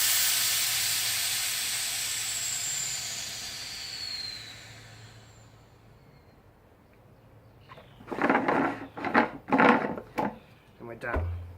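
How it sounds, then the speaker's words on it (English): Pressurized gas hisses out of a FermZilla fermenter lid in a loud, steady rush that fades away over several seconds, followed by a few sharp handling clunks and knocks. "Now don't unscrew that lid, let your gas out."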